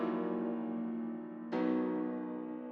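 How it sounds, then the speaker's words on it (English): Saturated piano for a UK drill melody with delay and a vinyl effect, one sustained chord decaying before a second struck chord rings out, soft and alone. "And now the piano sounds like this."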